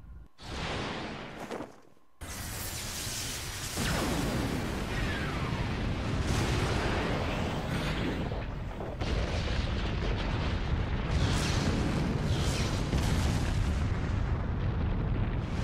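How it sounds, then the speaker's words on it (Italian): A massive explosion in the video game Asura's Wrath, the Brahmastra weapon firing, erupts in heavy booming blasts that roar on continuously after a brief gap, dense and rumbling throughout. "Questa esplosione per annunciare l'ordine di un nuovo mondo."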